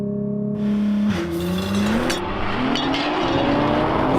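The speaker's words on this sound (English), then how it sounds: "to launch the GT-R, all I have to do is put all the switches into race mode, gearbox into auto, floor the brake, then floor the throttle and release the brake" Nissan GT-R in race mode revs against the brake, then launches at full throttle: a loud, close engine note climbing steadily through the gears with a brief tire chirp, no voices over it.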